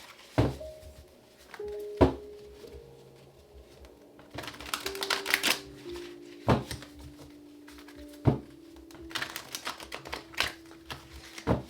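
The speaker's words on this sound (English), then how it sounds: "Last shuffle." Tarot cards being shuffled during a reading, heard as soft papery riffles and sharp taps of the deck at irregular intervals, fairly quiet, with faint background tones and no talk.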